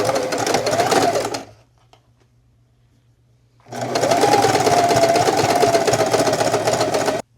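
Sewing machine stitching a patchwork hoodie, running loudly in two steady bursts with a whirring mechanical drone, split by a pause of near-silence lasting a few seconds.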